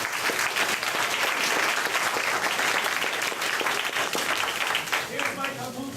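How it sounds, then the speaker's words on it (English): A room full of people at a graduation project presentation clapping loudly and continuously for several seconds, the applause thinning slightly toward the end as a voice begins speaking over it. "Let's give them a warm applause."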